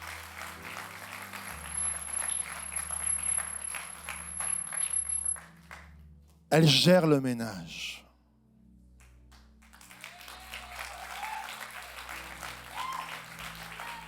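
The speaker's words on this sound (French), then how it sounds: "J'aimerais un petit applaudissement" Light applause from a church congregation during an Easter celebration service, a soft crowd clapping under a spoken voice, broken by a sharp loud noise and a brief silence before clapping resumes faintly.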